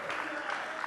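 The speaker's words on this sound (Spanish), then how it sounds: "¿Cuándo le da un aplauso al Eterno?" A congregation applauds in church, a brief wash of dense clapping mixed with voices.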